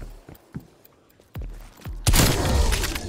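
Sniper rifle shots in Call of Duty Cold War Zombies: a few sharp, separate cracks and thumps, followed by a loud sustained burst of crashing, blasting noise that continues to the end.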